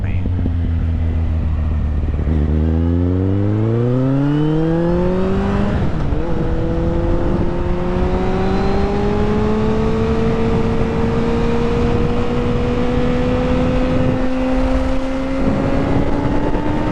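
Motorcycle engine accelerating hard on a ride, loud and close, its pitch sweeping up through the gears with a brief shift dip near six seconds, then climbing steadily under constant wind roar.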